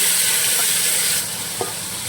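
Marinated vegetables hiss and sizzle in a pot as they are stirred for veg biryani, a loud close frying sound that drops a little partway, with a brief spoon scrape, no speech.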